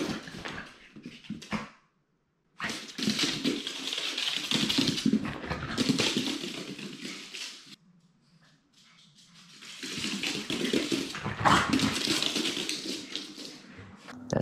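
A dog makes noise in bursts with pauses, mixed with running water that sounds like a toilet flush or a filling tub, fairly close and with no talking.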